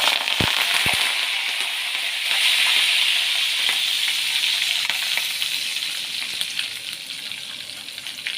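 Curry leaves, green chillies and ginger sizzle in hot oil for a pongal tempering, a steady, bright frying hiss with a couple of sharp pops early on, close and unaccompanied by speech.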